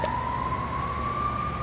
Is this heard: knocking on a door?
no